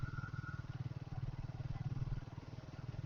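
A motorcycle cruises along a highway toward Lonavala, its engine giving a steady, pulsing low drone with constant wind rumble and no talk over it.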